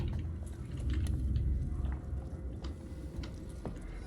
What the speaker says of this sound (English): you can hear how crunchy and hard it was for the cat